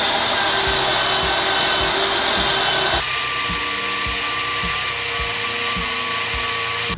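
A power tool grinds underbody wax off a car chassis, a loud continuous whirring drone with a regular pulsing rhythm close up, shifting pitch partway through, with no talking.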